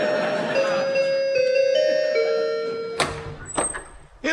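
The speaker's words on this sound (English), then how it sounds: "Let's ring the bell." A chime rings out over a steady background hum, followed by a sharp knock-like burst and a couple of brief clatters near the end.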